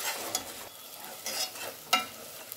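Ginger garlic paste fries in a pan for a chicken gongura biryani, a soft sizzle broken by several brief stirring scrapes, close and alone without speech.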